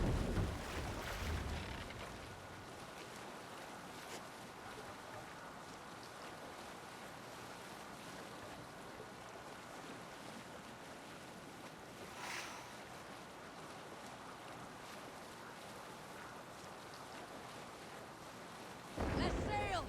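A Viking longship sails over the open sea in Assassin's Creed Valhalla, with a continuous wash of waves and wind that holds steady throughout and swells briefly near the start and the end.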